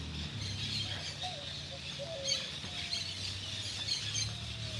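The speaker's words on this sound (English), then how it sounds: "Y'all hear all these birds?" Faint bird chirps and short whistled calls drift in over steady beachside background noise, sparse and somewhat distant.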